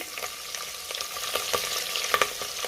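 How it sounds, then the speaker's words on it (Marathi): Whole spices and green chili sizzle in hot oil and ghee, giving a steady crackling hiss with small sharp pops and a few faint stirring clinks throughout, with no voices. "तेल तूप गरम झाले, त्यामध्ये आपण खडे मसाले घालूया। त्यातच आपल्याला हिरवी मिरची घालायची आहे"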